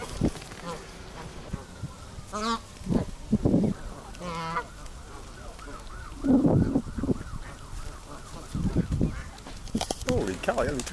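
Geese honk and call intermittently outdoors at moderate distance, several short bursts scattered across the stretch, with someone talking at times in between.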